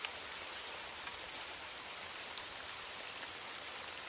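Steady rain pours down outdoors, a dense, even hiss of drops hitting surfaces that holds unbroken and fairly loud throughout, with no voices.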